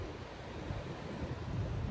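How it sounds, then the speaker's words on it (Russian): Steady wash of Mediterranean Sea waves breaking on a beach at Lara, Antalya, Turkey, a continuous broadband roar with some wind buffeting the microphone. "И наше любимое Средиземное море."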